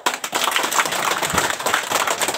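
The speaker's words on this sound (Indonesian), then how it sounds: "Sekali lagi tepuk tangan sama Jenderal Saul." Audience applause for General Saul, a dense, loud, continuous patter of many hands clapping.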